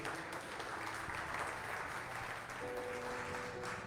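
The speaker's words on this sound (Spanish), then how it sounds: "¿Cuántos le pueden dar palmas al Señor?" A church congregation claps and applauds together in a steady, dense wash of hand claps that carries on throughout without letting up, with a faint voice underneath.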